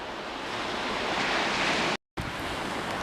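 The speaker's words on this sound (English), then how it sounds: "Generally a very shingly beach, but it does have the advantage of the waves breaking nicely on the shingle." Waves wash and break on a shingle beach along the coast near Seaham and Sunderland, a continuous hiss and rumble of surf with no voices, briefly cut by a short gap before the wash resumes.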